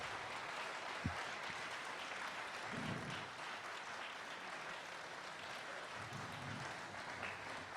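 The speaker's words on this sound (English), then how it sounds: "Let's have a round of applause for all three candidates." Faint, distant applause from the audience at a congressional candidate forum in El Dorado County, a steady low patter of clapping with a few louder bumps, heard alone without talk.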